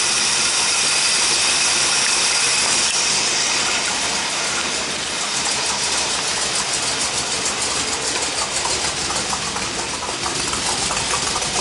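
A repaired Chevy car engine runs steadily after carburetor and distributor fixes, a loud, continuous mid-pitched idle with an uneven knocking rumble throughout, no voices.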